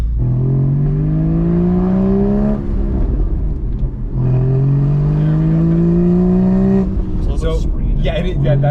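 A Porsche 981 Spyder's engine rises steadily in pitch in two long pulls, drops sharply between them and at the end, loud and close from inside the cabin, with no talking.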